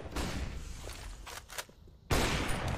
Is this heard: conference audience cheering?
no